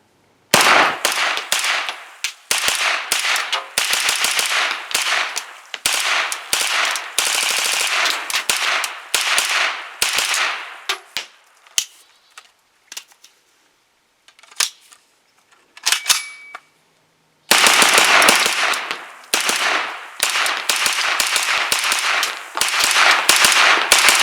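A Kalashnikov-USA KR9 fires long rapid bursts at an outdoor range, loud sharp gunshots in dense strings with a quieter pause for a magazine change midway, then more sustained fire.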